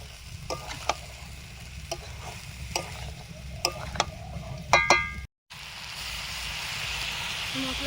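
Peas with spices fry in a pan, a soft steady sizzle under occasional scrapes and clinks of a stirring utensil against the pan, close by.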